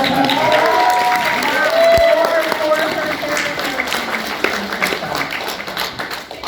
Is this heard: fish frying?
no